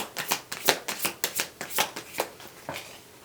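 A deck of tarot cards is shuffled close by, giving about a dozen quick papery riffles in an even rhythm, with no talk over it.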